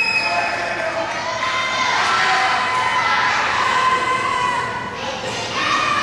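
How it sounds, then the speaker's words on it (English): Wrestling crowd at an EWP Wrestling match cheers and shouts steadily throughout, a dense, loud wash of voices with children's shouts rising above it and swelling in the middle. "This crowd cheering on David Young."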